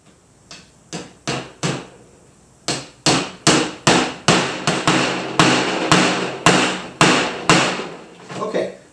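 A hammer drives nails into a canvas frame with sharp, close strikes, a few scattered blows at first and then a quick, steady run of about fifteen hits.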